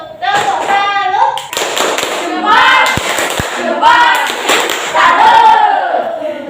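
A class of schoolchildren does a rhythmic tepuk salut clap, loud, close bursts of hand claps mixed with shouted chanting voices in a patterned cadence.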